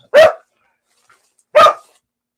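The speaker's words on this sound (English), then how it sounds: "Well, everyone, that was my dog Pepper" A lab mix dog barks twice, each a single sharp, loud bark close to the microphone, about a second and a half apart, with silence between.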